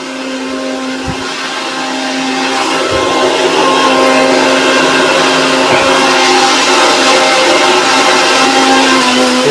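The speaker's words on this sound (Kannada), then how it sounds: "ಒಳಗೆ ಹೋಗ್ತೇನೆ ಮಿಕ್ಸಿ ಸೌಂಡ್ ಬರ್ತೈತಿ" A kitchen mixer grinder runs continuously, a loud close motor whine with a grinding rattle that builds over the first couple of seconds and then holds steady, with a few dull knocks, no voices.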